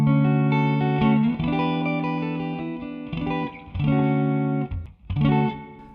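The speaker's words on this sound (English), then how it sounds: "let's start with just a basic spring reverb." An electric guitar through a 1980 Fender 30 blackface tube amp and a TC Electronic Hall of Fame pedal set to spring reverb plays sustained chords in short phrases, each ringing into a springy reverb tail between strums.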